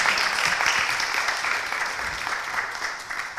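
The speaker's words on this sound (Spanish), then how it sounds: "creo que es el momento de darle las gracias a Ana en forma de aplauso por compartir con nosotros su experiencia." Conference audience at a talk on sport and climate change applauding to thank a speaker, a steady, full round of clapping from many people, fairly close and sustained throughout.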